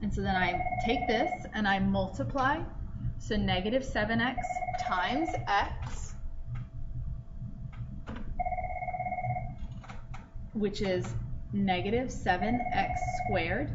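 A telephone rings repeatedly in the background of a classroom math lesson, its bright electronic trill coming in regular bursts while a man keeps lecturing over it.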